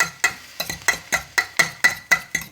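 Garlic cooks in a pan while being stirred, a steady run of about ten sharp spatula taps and scrapes against the pan, close and evenly spaced.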